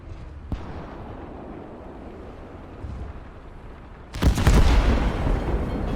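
Artillery in the WWII strategy game Gates of Hell: a low, steady wind-like rumble runs for about four seconds before one heavy, close blast erupts and rolls on loudly to the end.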